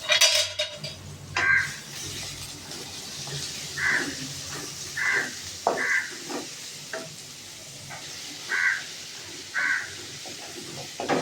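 Onions are sautéed in a pan with fennel seeds for masala bonda: a soft, steady sizzle runs beneath repeated clinks of a spoon or spatula against the pan, several distinct metallic taps spaced a second or so apart.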